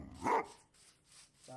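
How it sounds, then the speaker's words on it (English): A single short dog bark from the Minecraft video game, faint and quick near the start, followed by quiet background and a brief tone at the end. "Dogs."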